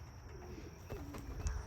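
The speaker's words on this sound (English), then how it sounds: "I got birds in the sky." Homing pigeons at a loft during a training release, with faint soft cooing and a few thin chirps over a low background hum, quiet and brief with no talk.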